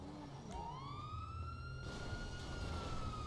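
A police car siren in GTA V wails in a long rising then sustained tone, fairly faint and somewhat distant, over a low rumbling car engine with no talking.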